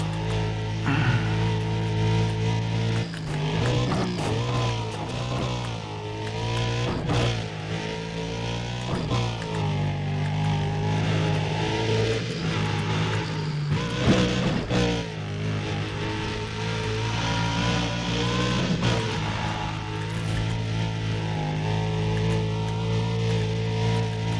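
Engine roar of a car accelerating in Need for Speed: Undercover during a sprint race from Gold Coast to Causeway, a loud continuous drone with rising and falling revs and gear-shift sweeps, with game music underneath.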